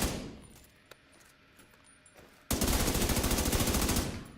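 An assault rifle in The Division 2 opens up in a sustained, rapid automatic burst that starts abruptly after a quieter stretch of faint game ambience and runs loud and continuous to the end.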